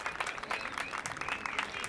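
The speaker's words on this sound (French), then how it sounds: "On applaudit tous Maria" A small classroom group claps steadily for a student's yeast-and-vinegar science demonstration, producing a dense, even patter of applause with faint voices mixed in.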